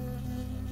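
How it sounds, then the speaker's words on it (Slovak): A bee buzzes in the video game Firewatch, a brief, steady, close insect drone that hums loudly with no talk over it. "Poštípala ma včela."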